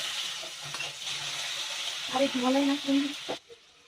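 Ginger-chili paste sizzles in hot oil with spices for Gujarati pav bhaji, a steady frying hiss with a brief stir and a clink of utensils before it cuts off.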